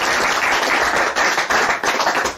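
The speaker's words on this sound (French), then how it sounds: "On va vous applaudir." An audience at an album dedication event claps for the artists and instrumentists, brisk loud applause with a few uneven dips and surges over a couple of seconds.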